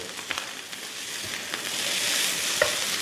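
Mackerel fried rice being stir-fried in a Happy Call pan: a loud, continuous sizzle with scraping and tossing sounds, a few sharper clinks standing out.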